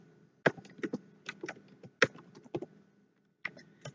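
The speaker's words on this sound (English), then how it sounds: "Here, let's type in some dummy text." Close-up typing on a computer keyboard while entering dummy text: irregular clusters of crisp key clicks with short pauses, quiet and unaccompanied by voices.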